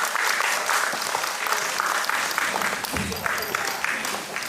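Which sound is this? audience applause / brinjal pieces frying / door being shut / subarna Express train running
audience applause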